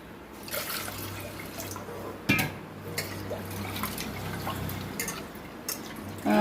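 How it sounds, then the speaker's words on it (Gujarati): Homemade desi lentils are rinsed in water in a home kitchen. Steady trickling and dripping splashes continue throughout, with a few sharper splashes along the way. "તો હવે આપણે દાળને ધોઈ લઈએ 2 પાણીથી"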